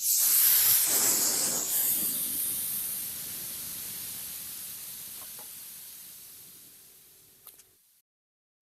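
A punctured car tire vents air in a loud, steady hiss that gradually fades and thins over several seconds, then cuts off abruptly.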